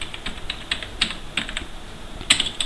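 Keystrokes on a computer keyboard, a light, irregular run of separate taps with brief pauses between them, close by and alone without any talk.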